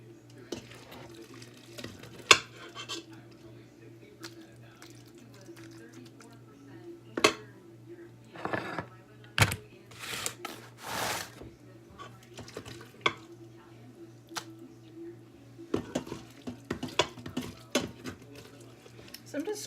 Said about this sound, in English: I'm just scraping the bottom of it to get the rest of this stuff out of the bottom